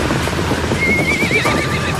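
A horse of the kind the conquerors brought to the Americas gives one loud, close whinny rising over a steady background of hoof clopping, with no talk.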